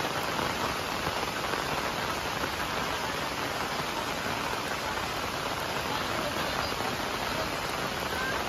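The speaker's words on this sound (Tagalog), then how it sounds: "Kalakas sa ulan." Heavy rain pouring down steadily, a dense, unbroken hiss of drops drumming on surfaces nearby, loud and constant from start to finish with no voices.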